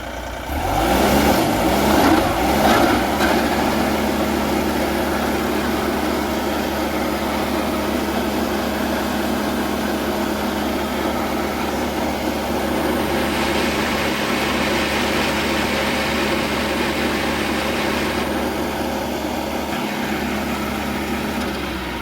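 The engine of an SC48TX stump grinder runs steadily after a restart, with a rougher, louder burst in the first few seconds before settling into a constant drone that continues throughout.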